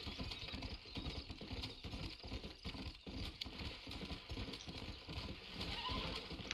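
Horse hoofbeats in the video game Red Dead Redemption, a steady galloping thud of hooves close up over a dense background of game ambience and music, with no talking.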